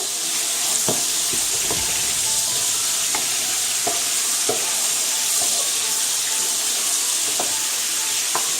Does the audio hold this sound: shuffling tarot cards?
no